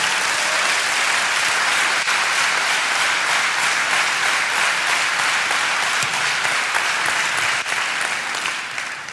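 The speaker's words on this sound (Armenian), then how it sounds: "եկեք բարձր ծափարենք մեր Աստծուն" A church congregation applauds loudly, a dense, steady wall of clapping from many hands that holds throughout and eases only slightly near the end.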